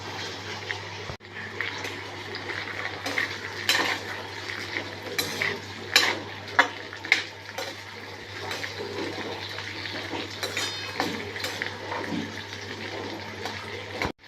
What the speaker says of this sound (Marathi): आपल्याला ह्या भाज्या आपण ज्या कापून ठेवल्या आहेत थोड्याशा तेलावर फ्राय करून घ्यायच्या